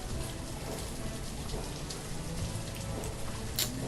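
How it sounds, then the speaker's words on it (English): Rain in the video game Banished falls as a dense, steady patter on surfaces, even and unbroken for the whole stretch with no voices. "It's hard to see with all the friggin' rain."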